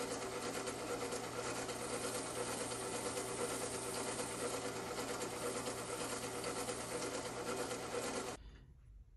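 Metal lathe taking facing cuts on a unicycle hub, a steady dense mechanical whir with a close, even hum that runs unbroken for about eight seconds and then cuts off sharply, with no talk.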